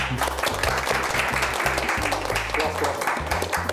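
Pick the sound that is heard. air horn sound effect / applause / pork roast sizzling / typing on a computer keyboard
applause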